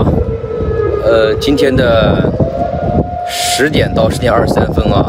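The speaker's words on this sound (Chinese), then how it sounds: "现在是北京又响起了这个空袭警报啊" A Beijing civil defense air raid siren sounds a steady, sustained wail during a morning test on September 21, heard from a distance beneath a man's close, continuous talking and other street noise.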